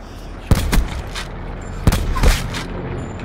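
Gunfire in Call of Duty: Black Ops 4 Blackout, a couple of sharp bursts of shots spaced apart, loud and close, with a voice briefly heard between them.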